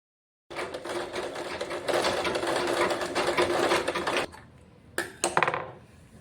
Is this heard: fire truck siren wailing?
no